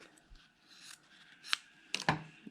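Scissors trim a fabric strip during string-pieced quilting on a foundation. A few quiet handling rustles lead into three crisp, close snips near the end.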